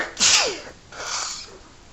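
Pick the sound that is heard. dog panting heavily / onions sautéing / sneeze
sneeze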